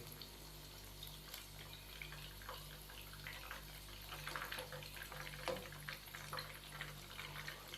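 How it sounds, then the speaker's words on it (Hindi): Chicken nuggets frying in hot oil give a faint, continuous bubbling sizzle with scattered small pops and crackles, steady and close, with no voices. "चिकन नगेट्स को माशाल्लाह से फ्राई होते हुए तकरीबन 7 से 8 मिनट हो चुके हैं"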